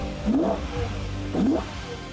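A naturally aspirated V10 engine revs up twice in quick bursts, pitch rising sharply each time with a brief drop between, steady idle rumble underneath.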